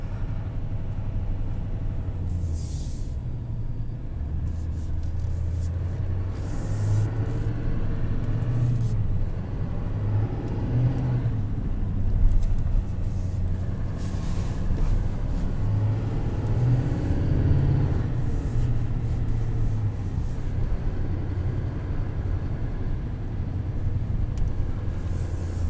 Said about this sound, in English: You can definitely hear that turbo.